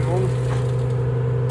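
An automatic shrink wrapping machine feeding shrink film, giving a steady loud motor hum with a tonal drone that runs throughout, ending in a brief clunk.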